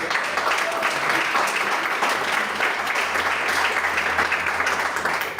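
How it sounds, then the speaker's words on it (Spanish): Church congregation applauding for several seconds, a steady broad wash of clapping filling a hall, fairly loud and continuous, with faint voices mixed in. "Denle un fuerte aplauso al Señor."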